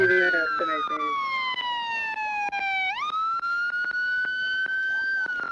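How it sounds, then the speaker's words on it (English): A police car siren wails loud and close, its long tone sweeping slowly down, then jumping up and holding steady, steady and unbroken over faint background noise. "Yeah, turn your siren off."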